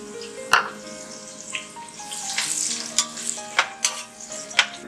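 Chopped onions and green chillies hit hot oil for a crab curry, a steady close sizzle and crackle with a few sharp spoon scrapes and clinks against the pan, no voices.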